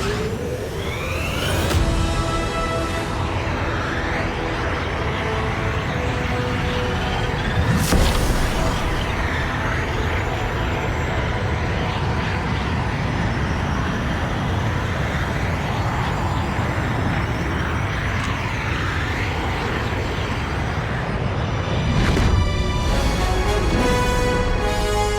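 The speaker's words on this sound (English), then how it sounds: "Spooling up the hyperdrive." Spaceship hyperdrive in the Star Wars Outlaws video game spooling up and jumping, a dense sustained roar with swelling whooshes and booming surges that holds steady throughout, no talking.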